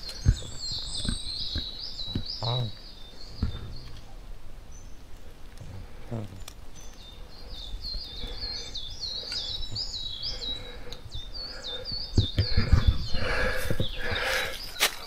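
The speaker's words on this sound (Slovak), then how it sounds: "niekedy je to naozaj veľmi dobré si vypočuť ten spev vtákov" Songbirds chirp and sing repeatedly in a forest, bright trills carrying at moderate distance, with occasional footsteps and movement sounds beneath and a burst of louder rustling near the end.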